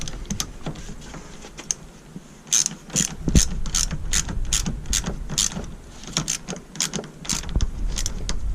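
A ratchet clicks in quick bursts while bolts are tightened on a 2005 Toyota Camry with a 2AZFE engine, the sharp metallic clicking close and loud, with short pauses between runs.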